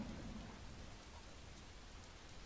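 In the video game Skyrim, heavy rain pours in a dense constant hiss while thunder rumbles low underneath, with no one speaking.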